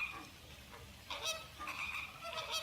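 Honking calls of a pink flamingo, several loud nasal goose-like blasts in an irregular series, heard alone with no talking.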